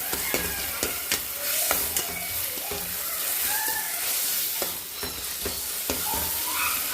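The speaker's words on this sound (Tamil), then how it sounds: "நல்லா எல்லாத்தையும் ஒன்றா போட்டு வதக்கிடலாம்" Tomatoes, onions and salt sauté together in a pan for a cauliflower prawn thokku, making a continuous close sizzle broken by scraping stirs and soft clicks of the spatula.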